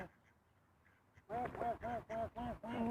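Wild ducks quack in a rapid run of loud, close calls after a second of near silence, each honking note repeating in quick succession.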